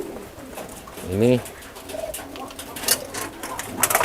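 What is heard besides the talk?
adult bird cooing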